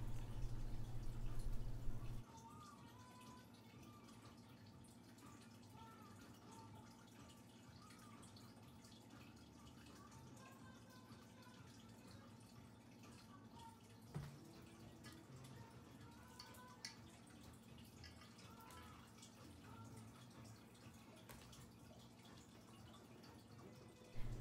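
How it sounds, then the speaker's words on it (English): Water runs steadily while a plant pot for a Hoya is washed out, a faint, even wash of sound with a few soft drips and a brief louder bump at the start. "So after washing out my pot, there's already a hole at the bottom."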